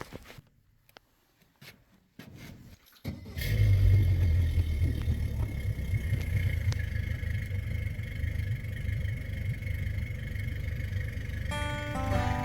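A boat's outboard motor is cranked a few times in short bursts, then catches and settles into a steady, fairly loud running drone that continues to the end.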